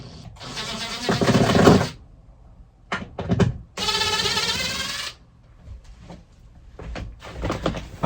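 A power drill drives screws into a century-old creaking wooden floor in several whirring bursts, two long runs and a few short stuttering pulses, loud and close, with quiet gaps between and no talking.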